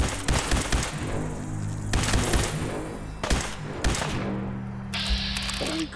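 Gunfire in the video game Fallout 4, several loud close bursts of rapid shots in irregular clusters, separated by brief gaps, with some game noise between them.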